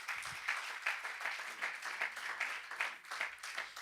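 A church congregation applauds Jesus during a Spanish-language sermon, sustained clapping from many hands filling the room at moderate volume with a steady rhythm of overlapping claps and no talking.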